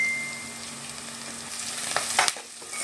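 Onions fry in oil with turmeric and curry leaves for a cashew chicken gravy, giving a steady close sizzle with a few brief stirring clacks toward the end.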